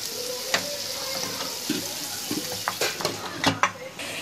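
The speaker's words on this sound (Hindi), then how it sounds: "ये देखो कांदा फोल के हो गया, नमक और कांदा और तेल" Onions frying with salt in oil while making chicken samosa filling, a soft close sizzle broken by short scraping stirs and light clatters of a utensil against the pan.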